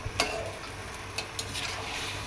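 Pointed gourd and egg being stir-fried in a pan: a quiet, steady sizzle with a few light scraping clicks of a spatula, no talking.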